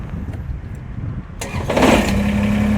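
A Kubota BX23s compact tractor engine cranking and catching, a sudden burst into a rough running rumble that settles into a steady close idle, loud and without voices.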